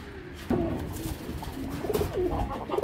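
Racing pigeons cooing up close, a few soft throaty coos in succession over quiet background noise.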